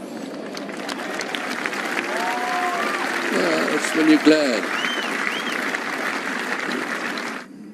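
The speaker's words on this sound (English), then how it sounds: "The applause was terrific." A golf gallery at The Open Championship applauds a strong 3-iron second shot at the 17th hole in round 3. The sustained crowd clapping runs under a commentator's voice throughout and swells briefly near the middle.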